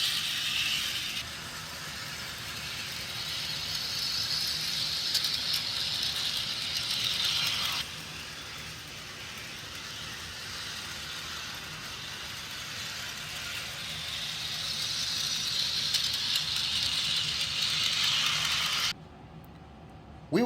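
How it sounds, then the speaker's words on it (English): An HO scale model train runs laps around a layout loop, giving a steady mechanical whir and rattling clicks of wheels over track joints that swell and fade as it passes close, with no talk. "I decided to happily oblige by running this short train for him."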